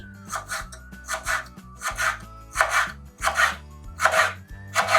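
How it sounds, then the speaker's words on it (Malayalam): A knife chops ginger on a board in quick, evenly spaced strokes, each a crisp scraping thud, repeating about seven times. "എന്നിട്ട് ചെറുതായിട്ട് നുറുക്കിയെടുത്താൽ മതി"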